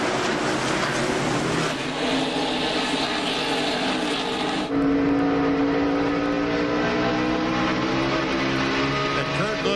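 NASCAR Winston Cup cars racing at Bristol Motor Speedway in 2001, a loud continuous engine roar from the pack with a sudden shift in pitch midway as cars pass.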